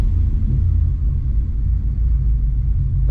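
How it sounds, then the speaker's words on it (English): A warmed-up 1992 Chevy C1500 pickup with a swapped LS1 V8 idles close by, a steady deep rumble with a slightly uneven throb and no revving or voices. "So the engine has warmed up"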